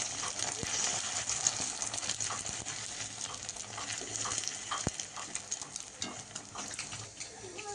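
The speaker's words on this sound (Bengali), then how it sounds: "এখন ডিমটা ভেজে নেবো" Egg frying in a kadai in a home kitchen, a steady hissing sizzle with sharp spits and crackles throughout, close and fairly loud.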